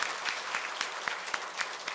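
A church congregation claps to welcome a newly registered member during a Sunday service, sustained applause with distinct hand-claps popping out at close range.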